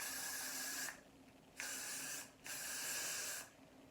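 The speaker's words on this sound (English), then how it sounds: "Okay, so I'm going to take some hairspray." Hairspray spritzed from an aerosol can onto styled curls in three hissing bursts, each about a second long, separated by short pauses, close and fairly quiet with no talking.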